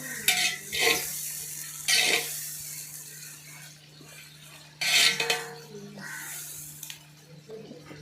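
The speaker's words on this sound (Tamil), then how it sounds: "இது நல்லா ஃப்ரை ஆகட்டும். வெங்காயம் நல்லா வதங்கி நல்லா கோல்டன் ப்ரௌன் ஆச்சு." Onions for beef biryani fry in a pot while a metal spoon stirs them, several loud scraping bursts against the vessel over a quieter ongoing sizzle, close up, no talk.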